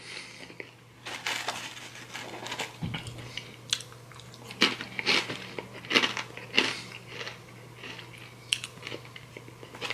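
Close, loud crunching of blue Takis rolled tortilla chips: a run of sharp, irregular crackly bites and chews repeating for several seconds with no talking, over a faint steady low hum.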